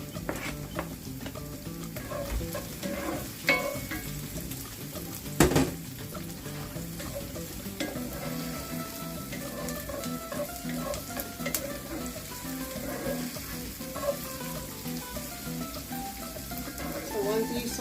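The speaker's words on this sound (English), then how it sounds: "the onion saute for about 3 minutes, 2 to 3 minutes, and then I'm going to put in the garlic." Chopped onion and garlic sautéing in a pan, a steady close sizzle with occasional spatula clinks and scrapes, running continuously with a faint murmur of background sound.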